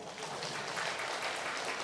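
Steady applause from a church service congregation, a dense wash of clapping that holds evenly for a couple of seconds.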